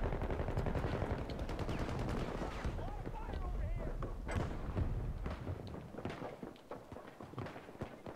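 Rapid pistol gunfire in a Battlefield 2042 gun master match: repeated sharp shots ring out in quick bursts amid other battle noise, dense through most of the stretch and thinning toward the end.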